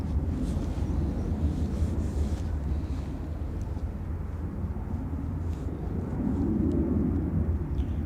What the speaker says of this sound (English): Ryanair 616 Kirsty, November, wind welcome. 30 degrees 7 knots, runway 28 right, clear takeoff.